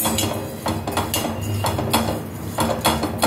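Grated dry coconut roasting in a kadhai over low heat for a Ganesh festival offering, stirred with a utensil that makes steady scraping and clinking against the metal pan, close and fairly loud with no voices.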